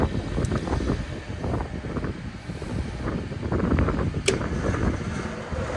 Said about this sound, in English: Okay, so that's our first compressor circuit one